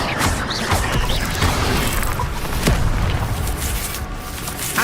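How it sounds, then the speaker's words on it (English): An Expelliarmus disarming spell cast during combat in Hogwarts Legacy. Punchy magical impacts and booms repeat over a constant rumbling wash of battle effects, loud and close throughout. "Expelliarmus!"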